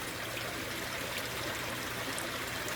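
Water runs continuously through the overflow pipe of a backyard aquaponic garden fed from a fish tank, a steady close trickling and gurgling flow at moderate loudness, with no talking.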